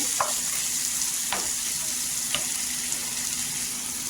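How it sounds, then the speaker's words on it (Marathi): Dry spices such as Kashmiri red chilli powder, garam masala, fennel and coriander powder fry in a hot pan for a Bombil chutney, with a steady close hiss of sizzling and a few faint stirring taps. "इथे सुके मसाले टाकायचे."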